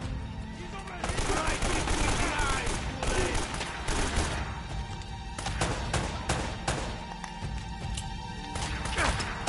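Shotgun blasts and gunfire in Uncharted: Drake's Fortune come as repeated loud, sharp bursts spread across several seconds, mixed with crashes and other game sounds.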